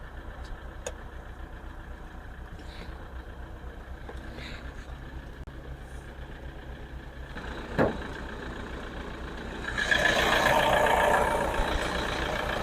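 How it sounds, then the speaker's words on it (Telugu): An older Toyota Innova's 2.5 diesel engine idles with a steady, low, even rumble, heard close up. A single sharp knock cuts in partway through, and a louder hissy surge rises near the end. "ఇంజన్ చూసుకోండి, ఇంజన్ బీటింగ్ ఇట్లా."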